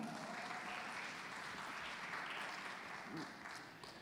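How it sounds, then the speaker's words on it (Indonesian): Audience applause for a speaker at a stage talk, sustained even clapping from a hall that tapers slightly toward the end. "Tepuk tangan untuk Judithia Pitana"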